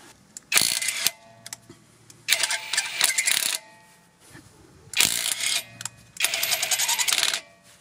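A Ferrex Pro brushless impact wrench tightens a nut in four loud rattling hammering bursts of about a second each, close by, separated by short quiet gaps.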